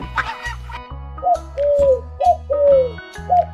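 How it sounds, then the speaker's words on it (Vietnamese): A dove coos in repeated soft, falling calls, four or five phrases spaced through the stretch, set over a bouncy, rhythmic backing tune with plucked notes. "Con chim cu."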